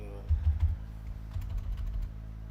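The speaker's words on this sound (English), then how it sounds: "I try to type and it just goes weird." Computer keyboard being typed on with keys that stick, short bursts of muffled tapping separated by brief pauses, close and moderately loud.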